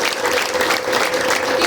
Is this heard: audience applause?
yes